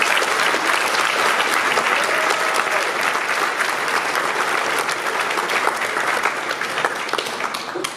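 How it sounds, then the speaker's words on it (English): Audience at a school honors assembly applauding honor students, sustained dense clapping from a large crowd, steady and loud throughout with faint voices mixed in. "join us in giving these fine students a round of applause."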